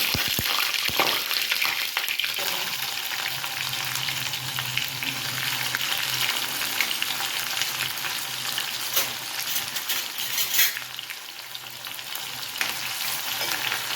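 Whole cloves, cardamom, cinnamon sticks, shahi cumin and coriander seeds dry-roast in a pan for palak paneer, giving a steady crackling sizzle with occasional stirring scrapes throughout, close and moderately loud with no talking.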